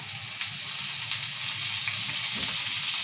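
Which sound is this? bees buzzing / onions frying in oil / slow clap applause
onions frying in oil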